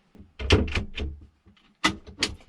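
A drawer full of cooking pots in a self-built Fiat Ducato camper van slides open with several close, loud rattling clunks in two bursts, no talking.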